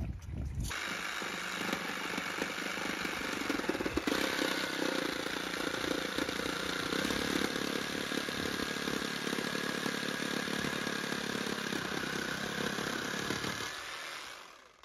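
A power saw cuts wood for building a greenhouse, a steady, loud mechanical whine that runs unbroken for about fourteen seconds before cutting off.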